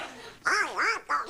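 A voice imitates Donald Duck in a comic radio sketch, three quick raspy quacking syllables with wavering pitch, close and clear over a quiet background.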